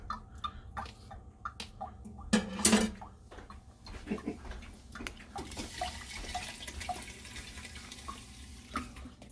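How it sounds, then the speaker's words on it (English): Water from a tap runs and splashes while coffee grounds are rinsed out of buckets after making cold brew, with irregular sloshes, drips and a louder gush early on, close and moderately quiet. "Rinse out the grinds, get those in there."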